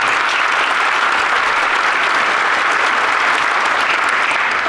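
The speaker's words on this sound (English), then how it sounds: "let's have a round of applause for what a wonderful community" Steady, dense applause from a large audience at a Hall of Honor ceremony, loud and sustained throughout with no pauses or voices standing out.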